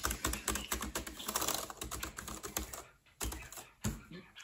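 Rapid, uneven clatter of typing on the keyboard of a LincPlus P4 notebook laptop, close and crisp keystrokes in quick bursts with a brief pause near the end.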